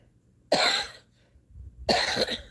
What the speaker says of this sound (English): So I do try to cough it up